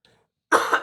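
A single sharp, raspy human cough bursts in loud and close after a near-silent pause.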